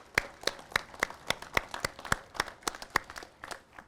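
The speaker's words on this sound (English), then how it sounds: "let's give all of them and the U.S." A small audience claps at a U.S. Attorney's Office ribbon cutting ceremony, giving a sparse round of applause. A few hands clap in a loose, fairly regular rhythm, each clap sharp and distinct, at moderate volume.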